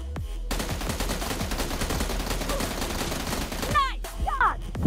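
Rapid bursts of automatic gunfire rattle loudly and continuously in a team deathmatch of a shooting video game, followed by a few chirpy effect sounds near the end.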